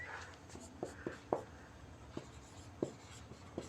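Chalk or pen writing on a board during a maths lesson, faint scratchy strokes with several sharp taps spread across the clip, alone without talk.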